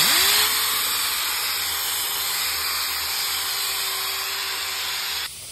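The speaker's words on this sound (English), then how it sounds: "just a quick little spray with the rattle can" A continuous hissing spray from an aerosol can, steady and close, lasting several seconds before cutting off abruptly.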